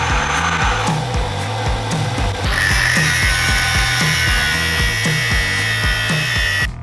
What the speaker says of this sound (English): So now drilled a hole in this sucker here.